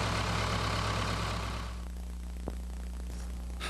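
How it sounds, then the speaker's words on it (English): White American 60/80 farm tractor engine running during pre-delivery start-up, a steady low diesel drone that loudly fills the sound, then settles to a quieter, even idle hum with a single sharp click. "The tractor should be started to make running checks and do a brief break-in."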